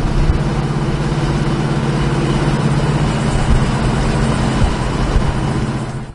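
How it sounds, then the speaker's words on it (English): Steady, loud low rumble of a 1970 Chevrolet Chevelle SS V8 idling with an aftermarket cam, a close, continuous throb with a slightly lopey pulse that holds even for about six seconds. "Nice rumble. It's got a nice little cam in it."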